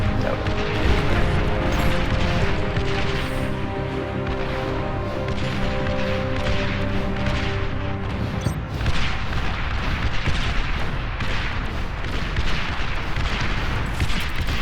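Units in the real-time strategy game Beyond All Reason pour concentrated fire onto an enemy commander, producing a dense, continuous barrage of overlapping gunfire, booms and explosions that stays loud throughout.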